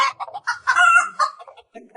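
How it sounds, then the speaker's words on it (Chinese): An animated hen squawks and clucks in alarm, with a burst of sharp, choppy cries that flare into a louder shriek and then taper into broken clucks, close and alone. "外面则传来了母鸡的惊叫声"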